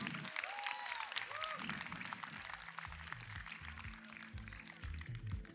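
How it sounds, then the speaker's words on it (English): Audience applause after a live wedding performance, with a steady wash of clapping from a crowd in the background. Faint musical tones and low rhythmic thuds are heard underneath. "Huge round of applause, everybody."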